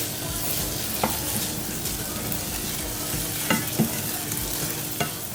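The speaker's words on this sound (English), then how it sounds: "Mix it in." A spoon stirs seasoned rice with green seasoning and all-purpose seasoning in a pot. It gives a soft continuous scraping with a few sharper clinks against the pot, close and fairly quiet.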